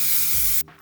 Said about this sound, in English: We are going to spray our hairspray onto the brush and then brush through.